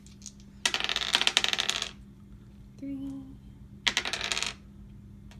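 Dice thrown during a family game of the Tower of Madness board game rattle and clatter in two sharp bursts, close and loud, with a brief spoken word between them.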